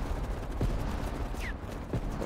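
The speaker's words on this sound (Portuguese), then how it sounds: "Tiros." A few sharp gunshots from the video game Call of Duty: Black Ops Cold War crack over a busy, noisy background, spaced irregularly about a second apart.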